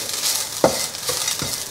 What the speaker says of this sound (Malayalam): ഇനി ഇതെല്ലാം കൂടി നന്നായിട്ട് ഇളക്കിക്കൊണ്ടിരിക്കുക.